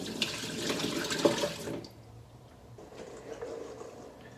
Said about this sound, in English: I'm just gonna give them a rinse really quick here in the sink.